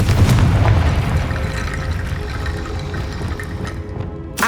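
A Confringo fire spell explodes in the Hogwarts Legacy video game, a loud sustained booming blast with rumbling low roar that stays heavy throughout before easing slightly at the end.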